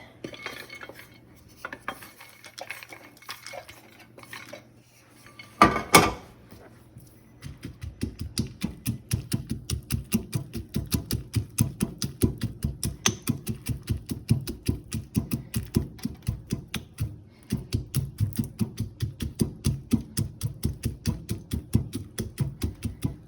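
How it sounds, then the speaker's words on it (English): Roasted peanuts for a Vietnamese banana tapioca dessert being crushed in a small batch: a steady run of quick, close, clacking pounding strokes continues for a long stretch after one sharp knock, with no talking. "And then I'm just gonna crush the peanuts."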